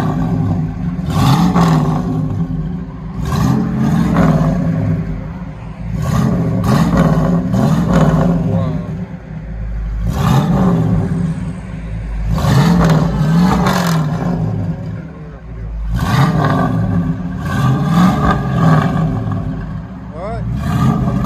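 Ford Mustang Mach 1 V8 engine revved repeatedly, about six loud, close blips rising and falling in a steady rhythm, each with a throaty roar that settles back to idle between pulses.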